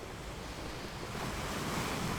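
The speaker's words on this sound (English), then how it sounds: "the ocean powerfully takes whatever it likes, and out, in a peaceful pleasure, playfully caressing pebbles." Ocean waves washing over pebbles, a continuous roaring wash of surf with wind noise that swells slightly toward the end.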